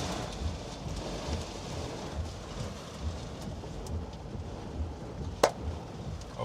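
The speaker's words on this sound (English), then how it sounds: "Got hail falling now." Hail falling during a North Texas tornado storm, a dense steady patter of hits with low rumbling underneath and one sharper close impact near the end.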